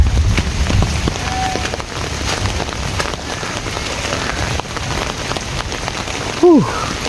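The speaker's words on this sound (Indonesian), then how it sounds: "Ekstrim nih dikarenakan licin, diguyur hujan teman-teman." Rain pours steadily on a remote, densely settled village on a foggy afternoon, a loud, close hiss of drops on surfaces that runs without pause, with a brief voice near the end.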